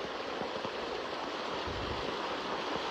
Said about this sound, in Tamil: தண்ணி என்ன இழுப்பு, ஆத்தோட வேகத்துல இழுத்து செல்லுது